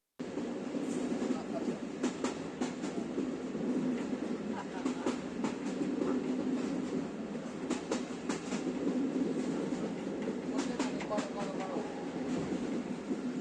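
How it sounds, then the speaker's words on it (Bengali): A passenger train bound for Rajshahi rumbles steadily from inside the carriage, with continuous low rolling noise and repeated sharp rail clicks over the whole ride. "সেখান থেকে আমরা রাজশাহীর ট্রেন ধরে ছুটে চলি রাজশাহীর উদ্দেশ্যে।"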